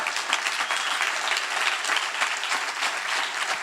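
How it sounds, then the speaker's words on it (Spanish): A church congregation claps during a pastor's sermon, a steady, moderately loud spread of many hands applauding together without speech. "¿Puedes aplaudir a Dios?"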